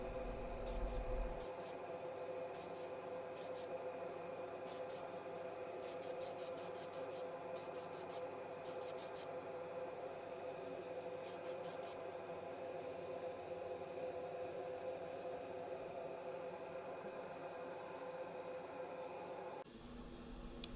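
Clear coat sprayed from an aerosol can onto model cars in a light coat, heard as a steady airy hiss that carries on for about eighteen seconds before cutting off, with a few brief scratchy bursts near the start.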